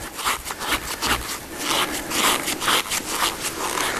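A compression irrigation fitting is screwed together by hand, producing repeated rasping, scraping twists close up, one turn after another at a steady rhythm.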